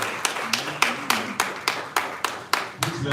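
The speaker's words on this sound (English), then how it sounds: "let's give her a round of applause" Scattered hand claps at a regional health performance review meeting, about a dozen separate sharp claps in an uneven rhythm, close and fairly loud, with a voice briefly underneath near the end.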